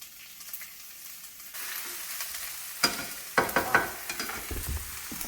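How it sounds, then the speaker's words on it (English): Chopped onions sautéing in extra virgin olive oil in a pan, a steady close sizzle that swells partway through, with a few sharper clatters of a utensil stirring against the pan near the end. "We're going to saute the onions."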